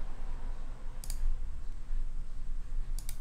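Computer mouse clicks while testing a Webflow menu trigger animation, two brief sharp clicks about two seconds apart over a low steady background hum, no talking.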